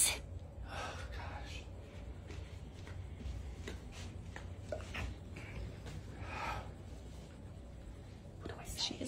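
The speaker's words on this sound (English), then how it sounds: "she's definitely breathing." A woman asleep in a bed at a beach house breathes softly and slowly, with faint snorts and breathy puffs close by over a low, steady background hiss.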